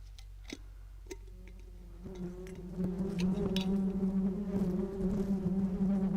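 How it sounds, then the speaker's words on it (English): Bees buzz in a steady, droning hum that thickens and grows louder after a few seconds, with a few faint ticks early on. "Those were bees."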